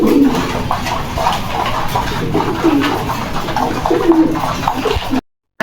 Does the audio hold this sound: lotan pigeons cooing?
yes